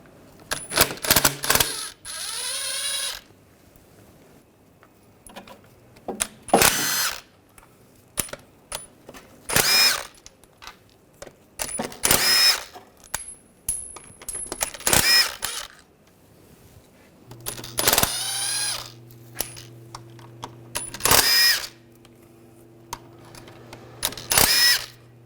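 Power tool backing out the transmission oil pan bolts on a 2006-2010 BMW 550i 4.8L V8 with a T40 socket, heard as repeated short whirring bursts separated by pauses and faint metallic clinks, fairly close.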